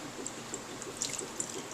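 Chicken broth pours over chicken nuggets in a bowl as a faint, soft trickle, with a few small liquid splashes and drips near the end and no voices.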